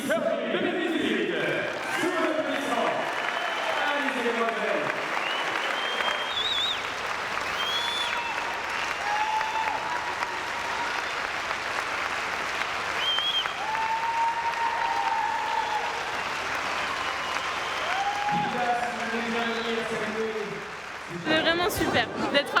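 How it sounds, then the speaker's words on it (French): Steady audience applause fills a French Miss Curvy pageant for contestants competing for Miss 2018, a dense wash of clapping from a large crowd that carries on for about twenty seconds, with voices now and then audible through it. "D'être applaudi comme ça, c'est formidable."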